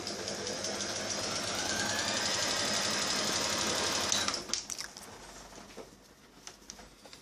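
A Brother Mimollet B894 sewing machine stitching in a steady, fast whirring run for about four seconds, then stopping, followed by a few quieter clicks and handling noises.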